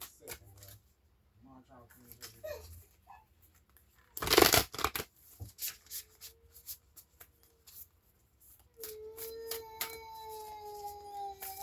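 A deck of tarot cards is shuffled for a one-card pull: soft flicks and taps build into one loud riffle burst midway, then scattered card clicks continue over faint background tones.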